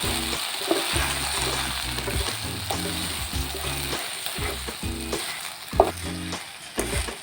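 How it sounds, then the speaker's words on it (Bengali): Jujube plums cooking with 100 grams of sugar in a pan give a soft continuous sizzle, broken by repeated scraping and knocking of a spoon as the fruit is stirred, close by. "কুলগুলো কিছুক্ষণ নাড়াচাড়া করে এর মধ্যে 100 গ্রাম চিনি দিয়ে দিলাম।"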